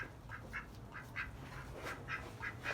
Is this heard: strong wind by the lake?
no